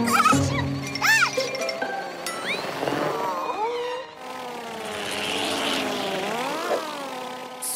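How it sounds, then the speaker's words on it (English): A cartoon drone passes overhead with a buzzing, propeller-like whir that rises and shifts in pitch, mixed with whistly, tinkling effects, moderately loud and close, with no speech over it. "A drone. I wonder who it belongs to."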